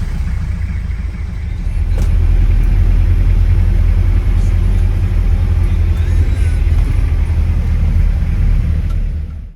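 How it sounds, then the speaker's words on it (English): Steady, loud engine rumble from inside a moving Cuban vintage car, a continuous low drone with road noise that swells slightly after the start and holds, with no talking. "this was also one of my first experience riding in a Cuban vintage car"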